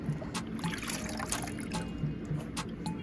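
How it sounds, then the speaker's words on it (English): A baby's jersey onesie is dipped quickly into a tie-dye bath, giving a continuous low trickle and slosh of liquid with faint splashing. "I'm going to flash dip it really fast"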